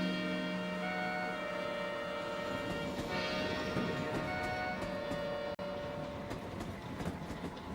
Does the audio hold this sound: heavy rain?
no